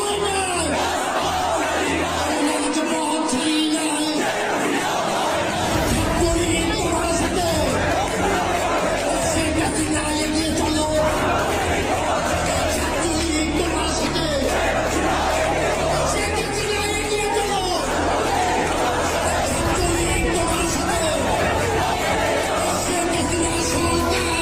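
A large outdoor crowd of Awami League supporters shouting slogans, a loud continuous roar of many voices with yells rising and falling throughout.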